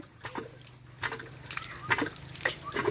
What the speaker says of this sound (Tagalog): Lumabas na yung tubig.